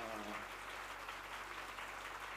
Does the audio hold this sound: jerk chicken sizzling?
no